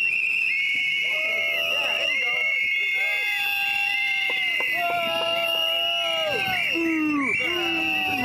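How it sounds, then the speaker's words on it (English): Many shrill whistles are blown at once at an outdoor climate protest. Overlapping long and short blasts continue steadily over a constant crowd roar. "To blow the whistle on Scott Brown."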